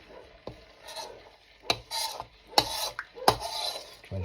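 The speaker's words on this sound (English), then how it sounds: "Try and get all this off the sides, it's caramelised, and get it back into the sauce." A utensil scraping caramelised curry sauce off the sides of a cooking pot, several separate rasping strokes in an irregular rhythm, close and loud with no talking.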